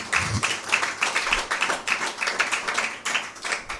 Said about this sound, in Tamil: கைத்தட்டி கர்த்தரை மகிமைப்படுத்தலாமா?